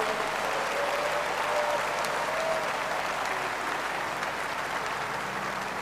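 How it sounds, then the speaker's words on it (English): A church congregation claps in a dense, sustained wash of applause, steady and fairly loud, with faint voices and tones mixed underneath. "Clap for the Lord, everybody."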